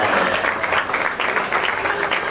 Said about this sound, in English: give them all a really big round of applause